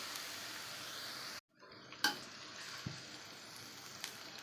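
Crushed garlic and ginger hitting hot oil in a pan, a soft sizzle interrupted by a brief dropout, then a spoon scraping and clinking as the frying continues quietly.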